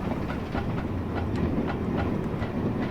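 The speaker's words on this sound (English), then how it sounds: "Nice custom sounds back here as well in the brake." Passenger view from a brake van on the Stainmore Furness Line in Train Simulator 2020: a steady low rumble of the rolling wagon, with regular clickety-clack beats from the wheels passing over rail joints.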